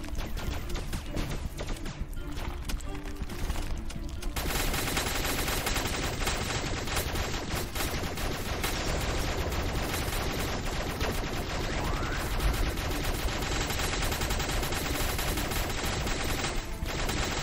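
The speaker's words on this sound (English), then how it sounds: "Gun does not require much energy, I can just keep shooting it." Rapid, continuous gunfire from an energy gun in the Starbound video game, shot after shot in a dense unbroken stream that fills the whole stretch at steady loudness.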